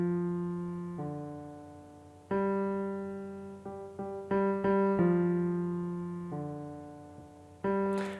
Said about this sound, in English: And this is the bass line.